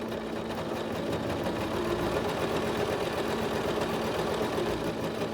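A Singer SewMate 5400 sewing machine stitches a zipper in a steady, even mechanical whir that runs without a break, close and moderately quiet.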